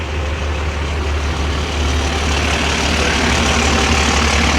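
A welder-up truck idling at a car show and drag race at Irwindale Speedway, a loud, steady, low engine rumble that continues without break and without talking.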